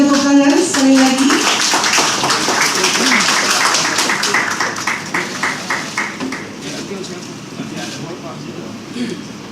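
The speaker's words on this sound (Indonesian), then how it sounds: "Boleh kita berikan tepuk tangan sekali lagi." An audience at an official Indonesian government ceremony applauds, dense and loud in a large hall. The clapping begins under a voice and thins to scattered claps as it fades.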